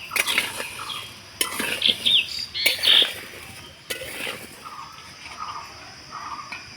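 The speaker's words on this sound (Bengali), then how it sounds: "এবার নাড়াচাড়া করে চিনিটাকে গলিয়ে নেব।" Raw mango and sugar stirred in a pan for raw mango candy, a utensil scraping and clinking against the metal in repeated uneven strokes, close and moderately loud over a steady high hiss.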